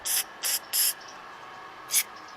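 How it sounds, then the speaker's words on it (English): Brake cleaner sprays in four short, sharp hissing bursts as it backwashes the jets of a Kohler engine carburetor. Three bursts come close together, then one more after a pause. "Just backwash them with the brake cleaner,"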